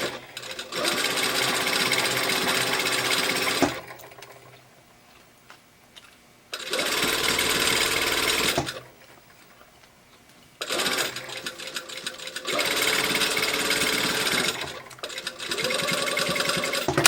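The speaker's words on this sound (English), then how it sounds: "I'm gonna sew the dart on this side, and then I'm also gonna do the same thing on the other side" A sewing machine stitches a dart through thick jacket fabric, running in three loud, steady bursts of several seconds each, with quiet pauses between them and no talking.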